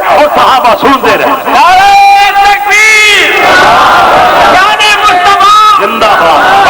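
A crowd at a religious gathering chants a slogan in unison, loud massed voices rising in long, sustained calls that repeat across several seconds, close and filling the space.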